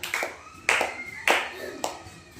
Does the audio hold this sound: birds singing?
no